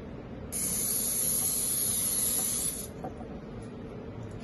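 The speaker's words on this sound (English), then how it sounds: "first you need to spray your pan with oil" Cooking oil is sprayed onto a pan in one steady hissing burst lasting about two seconds, close and clear against quiet room background.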